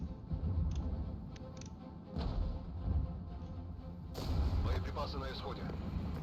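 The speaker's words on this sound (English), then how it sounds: "It's gonna keep shelling these guys then." Deep booms of artillery shelling in the video game Regiments roll out at a distance, with several dull thumps and a layered rumble, and a voice is faintly present in the background.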